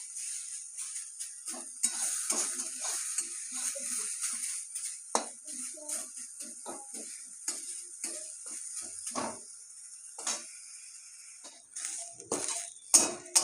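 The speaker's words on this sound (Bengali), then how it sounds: "নিম পাতাটা একটু ভেজে নেবো।" Washed neem leaves fry in a wok, a soft steady sizzle running under scattered metallic clinks and scrapes as a utensil stirs them, the clatter irregular and fairly close.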